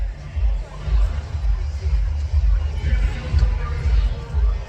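Low murmuring crowd at a marathon in North Bank Park, downtown Columbus, a steady rumbling hubbub with a throbbing low hum and no distinct voices standing out.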